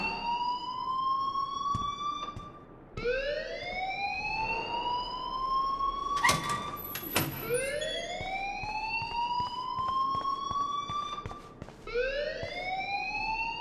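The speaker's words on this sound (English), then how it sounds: "please turn off that alarm since that's your job" A fire alarm in the video game Life is Strange wails in repeated rising sweeps, each climbing tone cycling every few seconds, loud and continuous, with a couple of sharp clicks partway through.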